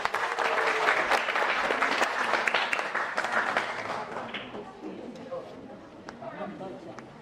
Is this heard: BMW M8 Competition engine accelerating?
no